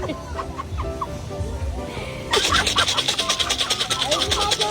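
Chickens cluck and squawk in short bursts, with a sudden jump to louder, denser clucking and flapping partway through, under some background noise and voices.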